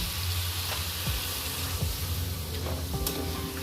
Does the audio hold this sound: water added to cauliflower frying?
yes